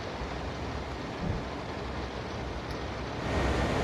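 Rain rattling against the cab roof of a Clinchfield Railroad train descending a steep grade in Train Sim World 2, a dense steady hiss that swells slightly near the end, with no talking.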